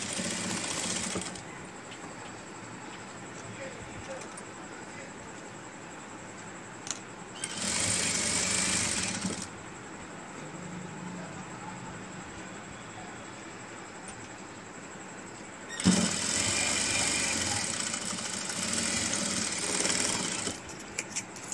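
A sewing machine stitches a hand-bag-style face mask in two loud bursts of rapid running, separated by quieter stretches of faint background hum, with no talking.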